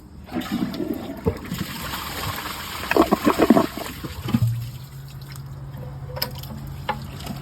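A 2023 Glacier Bay high-efficiency dual flush toilet flushes: a rushing surge of water with gurgles and splashes peaks midway, then gives way to a steady hissing refill trickle, close up with no talking.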